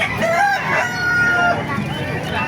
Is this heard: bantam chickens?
yes